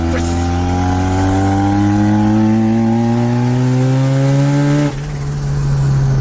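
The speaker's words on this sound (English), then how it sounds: "Do you like the compressor surge?" Turbocharged 12a rotary engine with a blow-through carburetor, a loud, close, rising engine drone that builds for several seconds before the compressor surge cuts it off abruptly, after which the engine settles into a lower idle.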